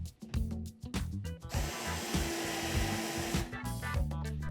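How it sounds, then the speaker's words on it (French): A power drill with a countersink bit pre-drills and chamfers a screw hole in wood for a custom machine cabinet, a brief whirring burst of a few seconds with knocks and handling noise before and after. "Commencez par prépercer et fraiser le trou à l'aide d'une mèche à chanfreiner"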